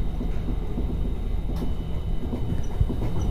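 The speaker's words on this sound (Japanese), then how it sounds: "列車は喜々津駅を通過中です。" A White Kamome limited express train rushes through Kikitsu station, a steady loud rumble of wheels and rail noise with faint rhythmic clacking, no voices.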